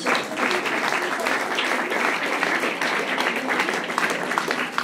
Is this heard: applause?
yes